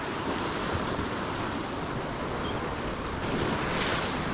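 Waves wash steadily against the shore beside a bass angler spin fishing, a constant broadband rush mixed with wind noise on the microphone, loud and continuous with no talking.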